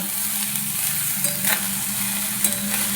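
Fried rice is stirred in a hot pan with salt, ground pepper and sugar, and a steady sizzle runs under soft scraping at close range with no talk.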